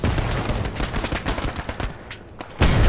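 Dense, sustained automatic fire from a machine gun in the World War II shooter Hell Let Loose, rapid loud bursts continuing throughout with a heavier blast near the end.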